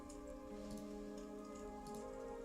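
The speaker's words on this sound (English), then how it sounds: "The rain continues." Steady rain ambience plays as background for a Dungeons and Dragons tabletop session, a continuous even hiss with faint scattered ticks and drips, no voices over it.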